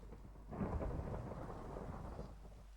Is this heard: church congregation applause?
no